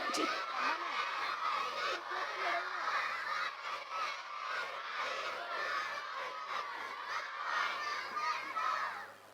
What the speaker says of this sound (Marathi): सगळ्यांनी एकदम सोडा लेमनची आरोळी द्यायची आहे